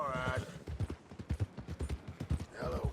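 A horse in Red Dead Redemption 2 clip-clops along in a steady rhythm of hoofbeats, with breathy snorts at the start and end, all under a voice speaking throughout.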